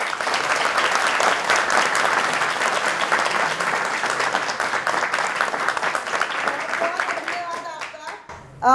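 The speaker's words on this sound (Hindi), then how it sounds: "आप लोगों ने देखा, उसके लिए आप सबके लिए हमारी तरफ से तालियां" An audience at a theatre play breaks into loud, sustained applause that carries on for several seconds before fading as a voice begins speaking.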